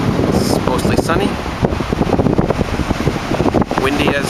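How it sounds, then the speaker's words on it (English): Strong wind on the Oregon coast buffets the microphone in heavy gusty rumbles and roars, loud and close, with a voice speaking over it. "Windy as always."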